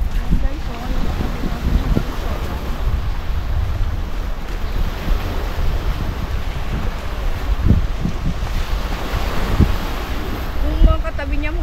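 Sea waves at a beach resort wash and rumble continuously against steady wind noise, with occasional heavier surges; a voice can be heard faintly at times.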